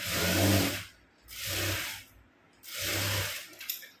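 A sewing machine runs a rough basting seam on a blouse in three short bursts of steady whirring, each about a second long, with brief quiet pauses between them. It sounds moderately soft and close, with no talk.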